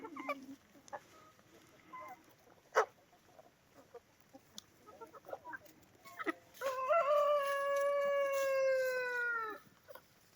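Chickens let out of the coop onto green grass after several days of rain: scattered soft clucks and rustling at first, then a rooster crows loudly and close by in one long, drawn-out call.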